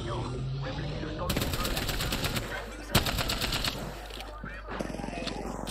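Automatic gunfire in Apex Legends on PS5, with rapid bursts and a sharp single shot cutting through game ambience while a player talks over the action.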